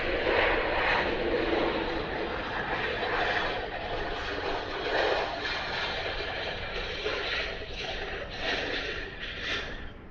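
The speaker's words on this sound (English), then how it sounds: "I think those engines are just so much louder because of how close they are to the ground." Jet airliner engines roar at Washington Dulles airport, a loud, broad and steady rumble that holds for the whole stretch with slight swells, heard close and alone without speech.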